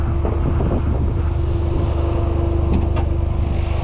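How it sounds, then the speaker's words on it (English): The turbocharged three-cylinder engine of a 2023 Toyota GR Corolla idles with a steady, loud rumble and a faint whine, close up, with some wind noise over it. "This is a 3-cylinder engine,"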